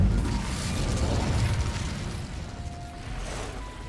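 Incendio fire spell cast in Hogwarts Legacy, a sustained roaring, crackling burst of flame with mechanical rumble underneath, loud and steady before easing slightly.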